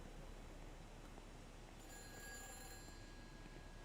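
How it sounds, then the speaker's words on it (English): A telephone rings in the video game Everybody's Gone to the Rapture, a faint high electronic ring in the latter half over a low steady ambient hiss. "And another phone call, too."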